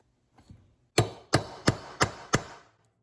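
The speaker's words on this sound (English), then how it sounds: "Need a bigger hammer." Hammer striking metal while staking a 1955 Ford Thunderbird Y-block fuel pump, five times in a quick, even sequence of sharp, loud blows, preceded by a couple of faint taps.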